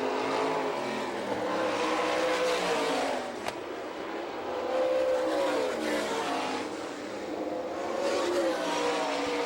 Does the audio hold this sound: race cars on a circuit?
yes